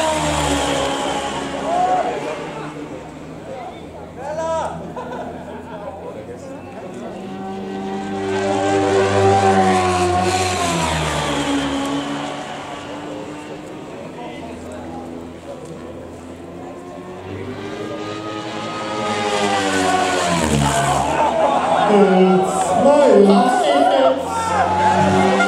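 A Diabolo S model helicopter's small engine warms up, whining and droning steadily, its pitch rising and falling as it revs, with a rumbling undertone throughout.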